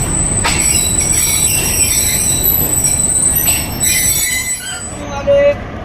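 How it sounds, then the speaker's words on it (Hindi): The Green Line Express passes through Mandra station in Pakistan without stopping, bringing a loud, close rumble of wheels, high metallic squeal and faint clatter that eases off toward the end. "दोस्तों 4:37 पर 6 down green line express Mandra पहुंच रही है।"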